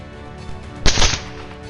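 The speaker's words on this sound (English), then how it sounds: "gunfire erupted, sweeping through the beasts in rapid bursts" A short, sharp gunshot crack with a brief second report close behind it during a wild boar hunt, loud and near, standing out alone against a quiet, low background hum.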